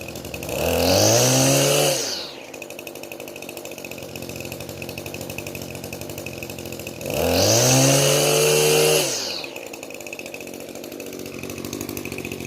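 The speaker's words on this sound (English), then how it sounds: "I can rev the engine up, and it doesn't really change all that much." A two-stroke Echo SRM 2620 X-series string trimmer engine revs up twice in loud, buzzing bursts of about two seconds each, close by, then drops back to a steady idle between and after the revs.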